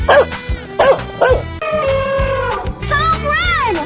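Cartoon dog creature in a fountain-splash animation lets out several short, loud, high yips and barks, then a longer whimpering, whining call, all close and clear.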